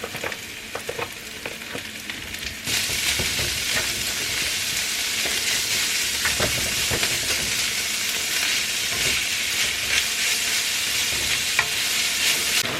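Meat hits a pan of browned garlic and oil, bursting into loud, steady sizzling and frying, with occasional stirring scrapes over the continuous hiss and no talk.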